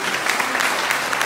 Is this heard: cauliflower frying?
no